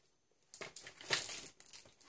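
Plastic bags for card candies rustle and crinkle as they are handled close by, in soft bursts of crackling that start after a quiet moment and continue intermittently.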